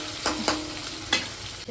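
Boiled potatoes frying with cumin seeds in a pan for a Bengali chicken biryani, giving a steady close sizzle broken by a few sharp scraping stirs.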